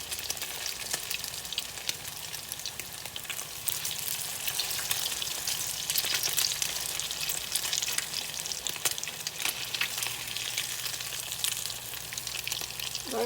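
Canned salmon patties fry in a pan with a steady, dense hiss and crackle of hot oil that holds even and close throughout, with no talking.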